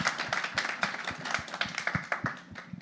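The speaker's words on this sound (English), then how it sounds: "let's give you guys a round of applause just for the presentation, Tariq" Audience applause at a panel discussion on Afrofuturism, a steady patter of hand claps from a modest crowd in an indoor venue, with no talking over it.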